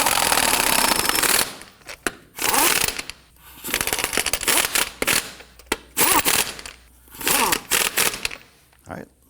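An impact wrench snugs down lug nuts on a Nissan Murano, firing in loud, repeated rattling bursts of about a second each, separated by short pauses.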